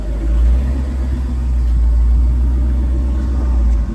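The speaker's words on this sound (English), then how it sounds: "I'm just gonna put it in first gear and I'm gonna let her rip." A vehicle on new TSL SX tires, tethered to a tree and put in first gear, rumbles with a loud, deep, steady engine drone that holds nearly constant throughout, close and unbroken.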